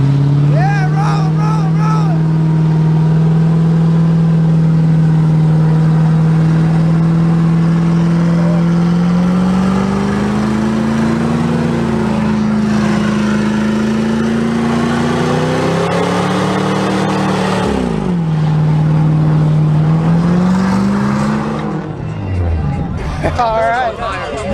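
Car engine held at high revs during a burnout, a loud sustained roar that wavers in pitch and climbs and drops around the midpoint, with crowd chatter and shouting over it.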